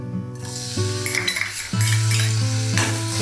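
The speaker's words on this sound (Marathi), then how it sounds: "तेल गरम झालं की आपण हा वाटलेला मिरचीचा ठेचा तो घालणार आहोत" Ground green chili thecha hits hot oil in a kadhai for Maharashtrian chakvat bhaji, bursting into a loud steady sizzle with a spoon stirring and scraping against the pan.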